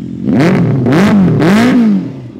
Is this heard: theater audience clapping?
no